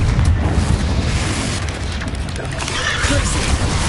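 The Confringo explosive spell bursts in Hogwarts Legacy with a loud booming blast amid chaotic combat noise, all close and dense.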